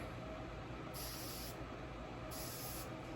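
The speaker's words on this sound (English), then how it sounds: "and I spray it" Two short hissing sprays from a pump bottle of piercing aftercare spray, each about half a second, close by over a steady low background rumble.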